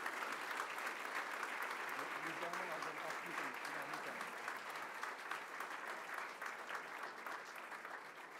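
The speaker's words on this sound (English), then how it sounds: "Let's give the governor another big round of applause." A large audience at a Long Island Association evening event applauds the governor, a dense, steady wash of clapping that holds throughout and fades slightly toward the end, with voices murmuring underneath.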